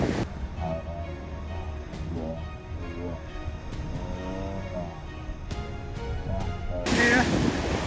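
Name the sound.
ocean waves breaking at a surf contest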